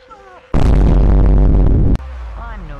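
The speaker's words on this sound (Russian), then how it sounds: "Вот она выстрелила в него." A loud burst of gunfire from Ana's rifle in the video game Overwatch 2 lasts well over a second, with a short crack at its end, while players talk quietly before and after it.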